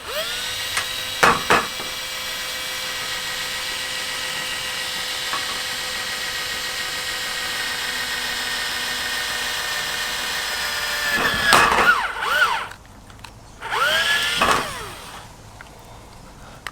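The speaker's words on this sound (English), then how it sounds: "My drill's dying, so that's why it's slow." A weak, battery-dying power drill bores a pilot hole into a 100 Series Land Cruiser rear hatch panel, its motor whining steadily and slowly, with short bursts at the start and a couple of louder surging passes near the end.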